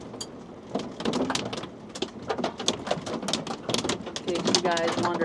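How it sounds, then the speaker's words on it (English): Hail drumming on the roof of a camper van during a hailstorm on a farm stay in Europe, a dense rapid patter of sharp impacts heard from inside, with a voice speaking briefly over it. "what it sounds like in the van in a hailstorm"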